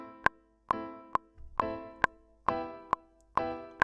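Reggae-style piano with the chord trigger's octave setting switched off, sounding as sharp, evenly spaced chord stabs on the offbeats, about eight short hits with quick decay, clear and alone.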